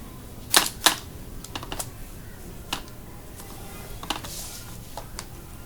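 Typing on a computer keyboard in MS Word: a few sharp, close keystrokes early on, then scattered lighter taps at irregular intervals over a quiet background.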